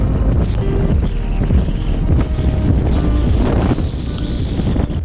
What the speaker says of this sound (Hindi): इस रीजन में काफ़ी तेज़ विंड चलती है